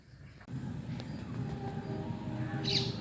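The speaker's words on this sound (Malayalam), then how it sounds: "ട്രെയിൻ പോകുന്ന ശബ്ദമൊക്കെ ഇവിടം വരെ കേൾക്കുന്നുണ്ട്" A low, steady rumble of a train rolls by at a distance, rising after a moment, with a faint bird chirp near the end.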